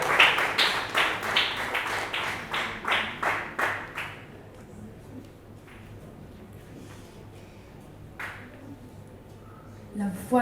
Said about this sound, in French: On applaudit pour Sabrina